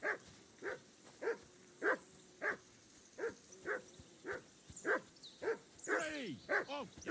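A dog in Kingdom Come: Deliverance II barks steadily, about a dozen evenly spaced barks at a moderate distance, with a few whining yips toward the end.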